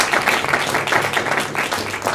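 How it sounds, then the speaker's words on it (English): An audience at a press conference in a church center claps in a steady, dense wash of applause, close and fairly loud throughout. "So a special round of applause for Nataki."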